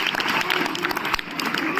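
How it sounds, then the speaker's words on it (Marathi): Dense, steady applause from an audience at a talk to students, close and loud and filling the whole stretch without a break. "एकदा जोरदार टाळ्या त्या माझ्या माय माऊलीसाठी."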